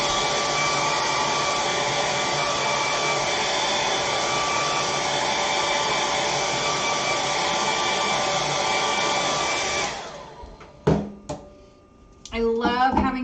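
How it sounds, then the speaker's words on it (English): A blow dryer runs steadily at close range for about ten seconds, drying a watercolor painting of poppies in a mason jar, then clicks off and a few brief knocks and rustles follow. "I love having a blow dryer just for this."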